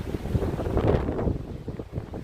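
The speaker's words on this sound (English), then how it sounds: "Oh man, it's a little blustery. Sorry about the bluster." Blustery wind buffets an outdoor microphone for a couple of seconds, a continuous low rumbling roar with gusty swells and no talking.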